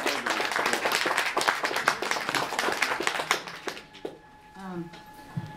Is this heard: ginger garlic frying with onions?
no